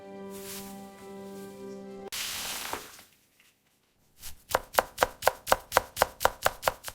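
A knife chops carrots and spring onions on a board in a quick, even run of about a dozen sharp thuds, near and clear, after a sustained musical tone and a pause.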